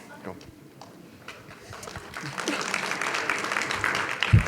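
Conference audience at RubyKaigi 2015 breaking into applause, starting sparse and swelling into a fuller round of clapping from a seated hall, with a voice talking over the start.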